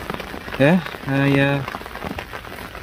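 Rain falls at a fishing lake on Pine Lake at Partridge Lakes Fishery, a steady hiss of drops on the surface, with a short spoken word and a held vocal tone sounding over it.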